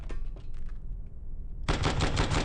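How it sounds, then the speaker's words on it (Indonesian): Film gunfire exchange: after a quieter rumbling stretch, a dense burst of rapid automatic shots erupts and rattles on loudly to the end, with no speech. "Baku tembak di kedua belah pihak pun tidak terelakkan."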